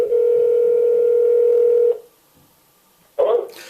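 An outgoing call's telephone ring tone holds steady and close for about two seconds, falls silent, then a voice answers at the end.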